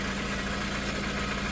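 Car engine idling steadily after a stalled car is restarted by the roadside, a continuous, even rumble with a mid-low drone close by and no talk over it.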